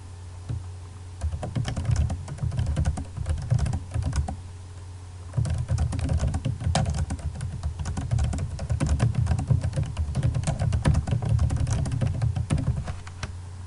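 Steady typing on a computer keyboard as a comment is written, with close, continuous key clicks in bursts, a short pause around four to five seconds, then more rapid typing.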